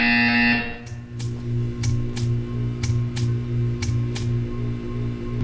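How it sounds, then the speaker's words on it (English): A buzzer in the video game Portal 2 sounds: a harsh electronic tone gives way to a series of roughly eight short, loud buzzing pulses over a steady low hum, with no speech. "You will hear a buzzer."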